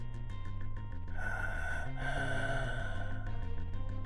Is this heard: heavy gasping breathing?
yes